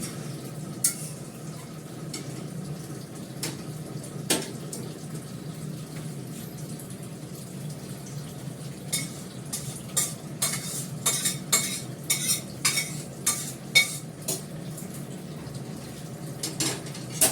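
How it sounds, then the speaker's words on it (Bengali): Utensil stirring and frying in a home kitchen pan as a quick Bengali meal is cooked, with steady sizzle underneath and a run of sharp scraping clinks that grows busier and louder toward the end. "এবার ভাজা করে নাও, ভাজাগুলো সব করে নাও"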